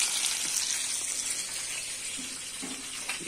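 Pacu fish frying in a pan by the Xingu riverside, a steady bright hiss of sizzling oil with a few small pops and crackles, close and continuous without talk.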